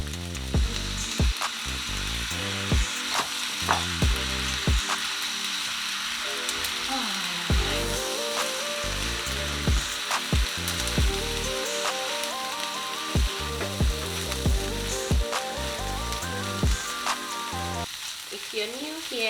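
Rice stir-fried in a pan with dark sauce, Maggi cube and sesame oil: a loud, continuous sizzle with repeated scraping and tossing strokes throughout, under a steady background music track.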